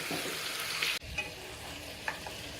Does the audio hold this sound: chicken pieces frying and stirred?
yes